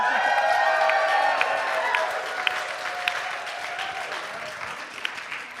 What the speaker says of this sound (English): Could we get a huge round of applause?